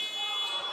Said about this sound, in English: everybody stopped when they heard the buzzer go